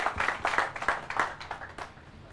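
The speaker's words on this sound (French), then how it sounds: "Applaudissements, c'est parti avec monsieur Thieno" A studio audience on a Burkina Faso TV program claps to welcome a speaker, a short, fairly quiet burst of individual hand claps that tapers off.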